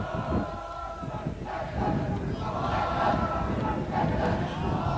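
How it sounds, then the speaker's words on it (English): Rugby supporters at a high school under-16 and under-17 match chanting and cheering as a crowd, a rhythmic massed roar of voices that swells and holds. "We can see them cheering on their team."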